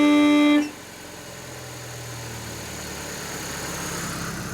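A worn-out air horn compressor pump on a Mitsubishi Colt: a brief loud horn tone at the start gives way to a steady, droning mechanical hum, close and continuous.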